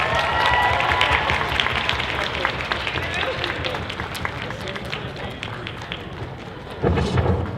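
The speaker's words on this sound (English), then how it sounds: "Big round of applause." Convention masquerade audience applauding honorable mention winners, a dense sustained roar of clapping that fills the hall, with a fresh louder burst near the end.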